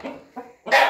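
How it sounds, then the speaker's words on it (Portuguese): Young chickens cluck on a perch, three close, loud clucks in quick succession with the last one longest and brightest. "Vamos apresentar os frangos pros meninos aí."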